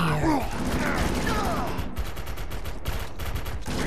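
Turrets fire in a hectic firefight in the PS3 shooter Defiance: rapid bursts of gunfire pulse steadily, mixed with mechanical clanks and whirring game effects that fill the scene loud and close.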